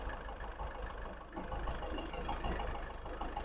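A 2017 Ford EcoSport Titanium idles close by with a steady, low engine hum and a faint broadband rumble that holds evenly throughout, with no talking.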